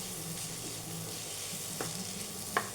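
A potato mixture sautés quietly in a pan with a low, steady sizzle, broken by a couple of short scraping stirs near the end.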